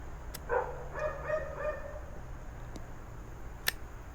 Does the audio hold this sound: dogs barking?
yes